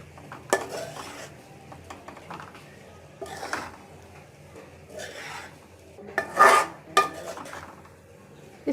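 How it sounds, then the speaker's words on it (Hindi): Boiled spaghetti is tossed into a pan with chicken and vegetables and mixed, giving intermittent scraping and clattering of a utensil against the pan, with quiet gaps between louder bursts. "अब हम इसमें बॉईल की हुई स्पैगेटी डालेंगे। और इसे मिक्स कर लेंगे।"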